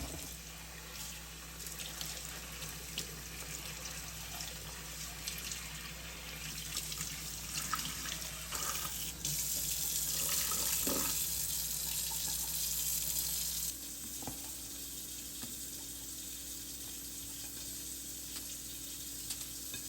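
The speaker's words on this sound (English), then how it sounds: "we're just gonna rinse them with cold water, stop the cooking process" Cold tap water runs steadily into a kitchen sink, rinsing freshly boiled shrimp to stop them cooking for Vietnamese spring rolls, with a hissing, sizzling wash that swells midway and then settles into a quieter stream.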